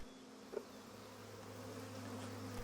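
Honey bees buzz around a beekeeper at the prison island of Gorgona, Italy, a continuous droning hum with a faint close fly-by, steady and moderately quiet over outdoor ambience.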